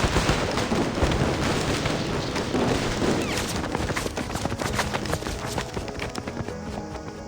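Rapid sustained gunfire in the Reverse: 1999 video game, a dense loud barrage of overlapping shots with sharp cracking transients that continue steadily throughout, with no talk over it.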